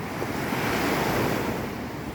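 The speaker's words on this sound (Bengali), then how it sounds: "সুন্দর সুন্দর ঢেউগুলো আসছে।" Sea waves break continuously on a beach at Cox's Bazar, a steady broad surf roar with some wind, close and fairly loud, no voices.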